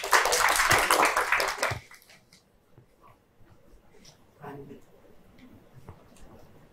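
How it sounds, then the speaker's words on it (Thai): At a presentation session for young researchers, an audience gives a loud, dense burst of applause that lasts under two seconds and then stops abruptly, leaving a quiet room with faint scattered sounds and soft voices. "ขอเสียงปรบมือนะครับ"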